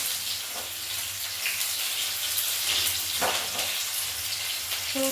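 Spice tempering crackles and sizzles in hot oil for red lentil dal, a steady, close hiss of frying with brief pops and clinks of stirring, with no voices.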